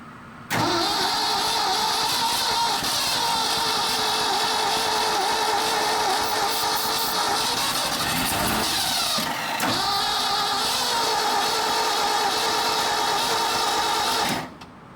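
An old dump truck's tired engine running roughly and unevenly, a loud, steady mechanical drone with a brief dip and stumble midway before it picks back up and holds until it cuts off near the end.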